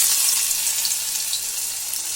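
Pointed gourd vine leaf fritters (bora) frying in hot oil give a steady, close, even sizzle and crackle that fills the whole stretch, with no voices.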